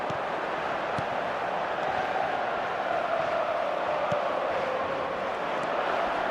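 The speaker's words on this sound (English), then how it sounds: "the crowd level has gone up a notch or 10" Stadium crowd in the eFootball video game, a dense steady roar swelling slightly in the middle, loud and continuous with no single voice standing out.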